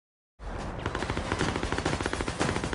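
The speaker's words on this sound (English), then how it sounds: "This shootout is ridiculous." Gunfire in a shootout from the 2008 movie Sharks in Venice, a rapid automatic burst of shots starting abruptly after brief silence and continuing loud and steady.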